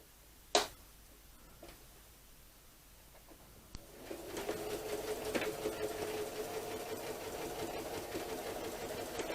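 A sewing machine stitching fabric: a few isolated clicks and taps first, then the machine starts and runs in a steady, quiet, even whir.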